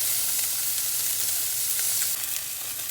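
A thick salmon fillet sears in a hot frying pan, giving a loud, continuous close sizzle and hiss that holds steady throughout without any talk.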